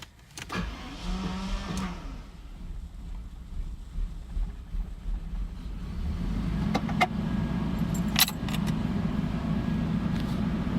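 A restored Jaguar XJS V12 engine idles with a low, steady rumble that grows slightly fuller toward the end, broken by a few brief clicks and knocks.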